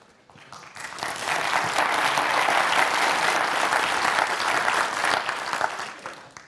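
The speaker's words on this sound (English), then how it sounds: "Very kind to get a round of applause at the start." Sustained audience applause fills a conference hall at a pension industry annual plenary, a dense steady wash of many hands that swells in, holds loud and fades near the end.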